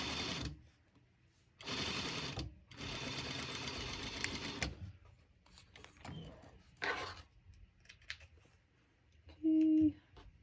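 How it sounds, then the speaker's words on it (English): Home sewing machine stitching the seam of a fitted fabric face mask, whirring in several steady bursts of a second or two with short pauses, ending with a brief higher-pitched tone. "sewing right down the middle, just sewing right next to it to keep that seam down"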